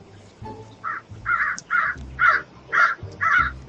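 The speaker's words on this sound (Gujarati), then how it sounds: "તેને ભૂખ લાગવાને કારણે તે કા કા કરવા લાગ્યો." A hungry crow caws repeatedly in a jungle, about six loud, evenly spaced calls close by, with low background noise between them.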